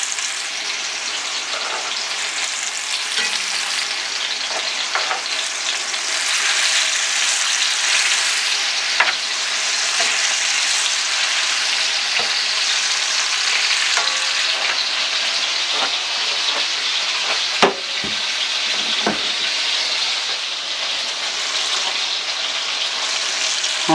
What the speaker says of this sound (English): All I'm going to do is brown this beef really nice.